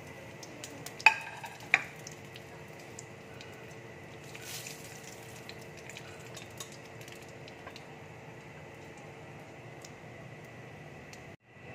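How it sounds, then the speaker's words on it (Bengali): Panch phoron, dried red chillies and bay leaf hit hot oil for a parwal curry, giving two sharp clinks near the start and then a steady, soft, even sizzle that runs on alone. "এবার আমি পাঁচফোড়ন দিচ্ছি, শুকনো লঙ্কা ফোড়ন দিচ্ছি আর তেজপাতা দিয়ে দিচ্ছি"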